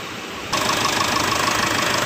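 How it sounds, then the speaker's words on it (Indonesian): After a brief quiet moment, a Mitsubishi Triton diesel engine idles steadily nearby, a smooth continuous rumble with a slight even knock. "untuk suara mesin lumayan halus ya teman-teman"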